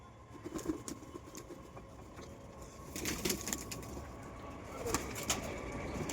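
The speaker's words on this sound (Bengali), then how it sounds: "এই যে সব কটা পায়রাই আস্তে আস্তে আসছে এদেরকে খেতে দিয়ে দেবো" Pigeons gradually coming down to be fed, with soft cooing and occasional wing flaps, quiet and somewhat distant over a faint outdoor background, no voices.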